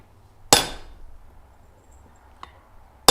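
A hammer strikes hot forged steel on an anvil with a sharp, loud ringing blow, then a lighter tap and another sharp strike at close range in a gas forge workshop.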